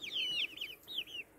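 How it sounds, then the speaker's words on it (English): Six-week-old heirloom-breed chicks peep in quick, high, sliding chirps, several in a row, close by with a quiet background. "under here are some little chickens"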